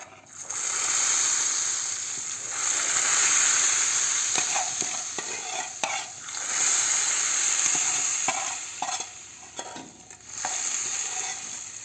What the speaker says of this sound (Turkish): Yağımızı çorbamıza ilave ediyoruz.